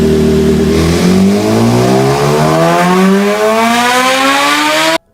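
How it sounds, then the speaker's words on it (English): A high-revving last-generation BMW S1000RR superbike engine screams steadily upward in pitch for about five seconds, loud and close, then cuts off abruptly. "here's a last gen S1000RR so you can get a feel for it"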